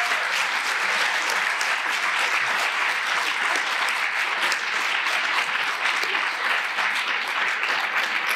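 Sustained applause from a large audience at a union steward conference, a dense, steady wash of clapping that holds at an even, loud level throughout with no talk over it.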